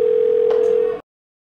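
A steady telephone dial tone sounds as a call is placed, loud and continuous for about a second before cutting off abruptly into silence.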